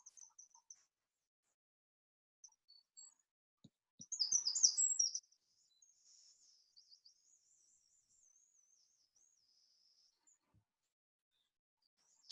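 Wren song heard faint and distant: scattered high chirps, then one brief burst of rapid repeated trilled notes, followed by soft wavering high calls, with no talking.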